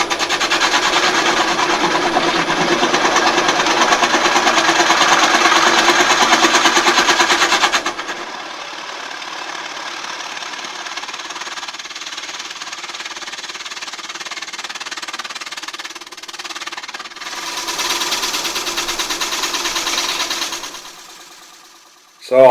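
A wood lathe spins a woodturned bowl with a steady, loud motor hum and whir, dropping to a quieter run midway before rising again briefly and then winding down.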